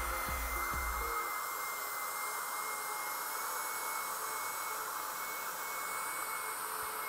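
A handheld mini vacuum cleaner from Walmart running steadily with a loud, constant whine and airy roar after a brief thump at switch-on, close to the listener with no speech.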